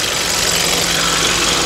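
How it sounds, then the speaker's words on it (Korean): A Hyundai Grandeur HG 240 gasoline engine idles with a smooth, steady, even hum, heard up close from the open engine bay with no talking. "일단 차량 자체는 휘발유 엔진이기 때문에 이제 엔진 소리도 굉장히 조용한 편이고"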